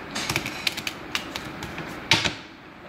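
A deck of playing cards is shuffled during close-up card magic tricks: a run of quick crisp taps and riffling clicks, with a sharper burst near the end, close and alone, with no talking.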